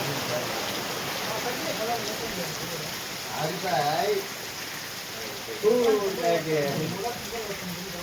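A steady hiss of heavy rain falling all around in Annamayya district, with people talking over it in bursts.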